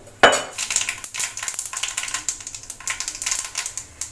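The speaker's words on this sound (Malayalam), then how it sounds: "കടുക് പൊട്ടി തീർന്നിട്ടുണ്ട്." A teaspoon of mustard seeds crackles and pops in reheated hot oil for papaya erisseri, dense rapid ticking snaps after a sharp first burst, steady and close with no talking.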